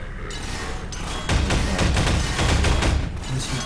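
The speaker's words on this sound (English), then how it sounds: "Clearly they're not the only ones shooting at me." Dense bursts of gunfire in a Half-Life 2: Episode Two single-player mod, rapid overlapping shots with mechanical clatter, growing louder and busier midway, with no voices.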